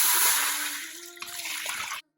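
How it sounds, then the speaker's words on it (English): Fish stock water from soaked fish being poured into an Instant Pot, a steady close splashing pour that thins toward the end and stops abruptly. "The first thing that I need to do is to add in the water."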